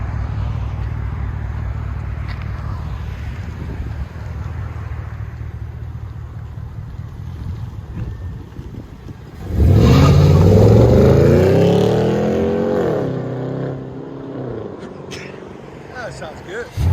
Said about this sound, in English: That's the nice thing about the Flow FX is you only hear it when you give it gas.